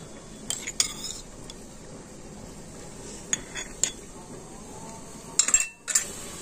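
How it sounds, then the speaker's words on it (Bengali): Spoon clinking and scraping against a bowl while a batter of powdered milk, grated coconut and water is mixed, in a few short bursts over quiet room background. "আর এবার আমি জল দিয়ে ব্যাটারটা গুলে নেব"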